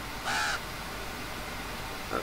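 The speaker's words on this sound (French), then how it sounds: "Mais c'est devenu un corbeau blanc." A crow in the horse-riding video game Star Stable gives a loud caw, then a shorter, fainter call follows a moment later over a steady low background hum.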